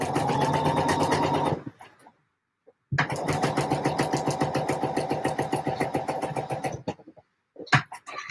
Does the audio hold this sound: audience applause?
no